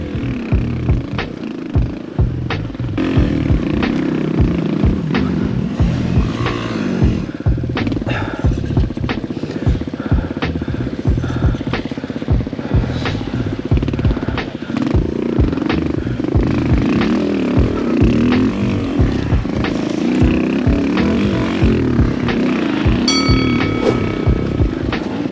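A Suzuki DR200 dual-sport motorcycle pushed hard along a rough enduro trail, its small single-cylinder engine buzzing and revving steadily for the whole stretch, close and loud, with knocks and clatter from the rough ground.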